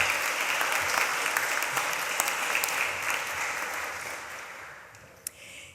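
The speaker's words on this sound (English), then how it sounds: "let's give them a round of applause" An audience in a chapel applauds graduands at a graduation ceremony, sustained full clapping from many hands that tapers off gradually toward the end.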